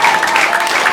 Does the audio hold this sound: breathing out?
no